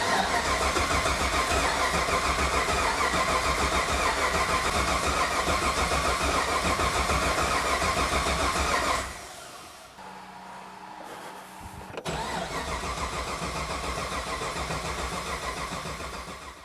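A tight, brand-new engine cranks and labours on a weak battery, a loud continuous churning drone that cuts out abruptly near the midpoint, leaves a few seconds of near-quiet, then resumes just as strongly to the end.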